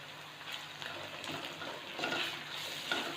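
Garlic and ginger paste frying in a pan while being stirred for a whole masoor lentil dal, giving a steady close sizzle with periodic scraping strokes of the spoon and no voices.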